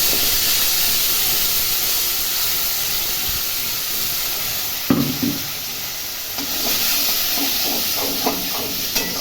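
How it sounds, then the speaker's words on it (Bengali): Pointed gourd sizzles and hisses steadily in a frying pan; midway a sudden burst of louder crackling and spitting marks ginger-chili paste hitting the hot oil, followed by stirring scrapes. "এবার এই পেস্ট আমি সব ঢেলে দিচ্ছি এর মধ্যে"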